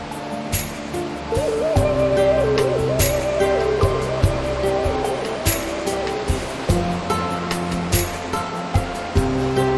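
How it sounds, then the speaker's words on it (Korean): A steady, heavy rush of a waterfall in an Andes forest roars continuously, loud and close, with a faint tonal hum drifting underneath. "폭포는 장쾌하게 쏟아진다"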